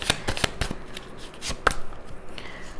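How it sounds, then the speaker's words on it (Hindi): A deck of tarot cards being shuffled and drawn by hand: quick, close riffling bursts and soft card slaps in a brisk, uneven rhythm, with no talking. "मैं अभी कार्ड निकालती हूँ आपके लिए"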